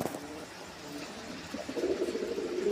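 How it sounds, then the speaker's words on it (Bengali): Domestic breeding pigeons coo softly at close range, low repeated throaty calls that swell louder toward the end, with faint background noise and no talk. "এটা ঘরের কবুতর মানে ব্রিডিং করা এই কবুতর"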